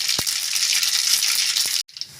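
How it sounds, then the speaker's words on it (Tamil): Mustard seeds spluttering in hot oil in a pan for beetroot poriyal, a dense steady sizzle with a couple of sharp pops, then cutting off abruptly. "கடுகு நல்லா பொரியட்டும்."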